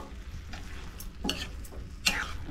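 A spoon stirring veg manchurian gravy in a pan, with a few distinct scraping strokes and light clinks over a quiet, low simmer.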